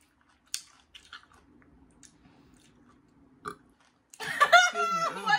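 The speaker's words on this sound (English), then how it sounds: "Why you keep burping?" Short throaty burps break up quiet chewing and crunching while someone eats warm sour pickles. A couple of brief eructations stand out near the start and middle, then a person begins talking loudly.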